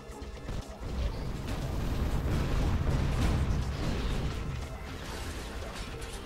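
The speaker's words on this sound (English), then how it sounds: "Oh boy, bullets, lots of bullets." Dense, continuous crashing and booming from gunfire and bullets in the video game Tower of Guns, a steady loud barrage of impacts and blasts with no clear gaps between shots.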